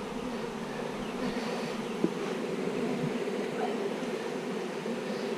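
Honey bees swarm around a hive, a dense steady hum close by with individual insects buzzing past, and a single faint tap partway through.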